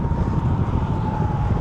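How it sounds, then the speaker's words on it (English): Strong wind at Lido Beach on the Gulf of Mexico buffets the microphone in a steady, low roaring rush with no voices. "It's really windy here."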